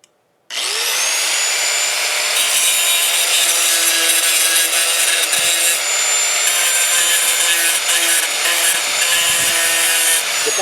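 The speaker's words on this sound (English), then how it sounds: "I'm gonna grind them off a little bit, and then I should be able to get it on." A grinder grinding off welds on a Swisher trail mower, starting abruptly after a brief silence and then holding a loud, steady, high-pitched metallic whine with gritty scraping, close up and alone.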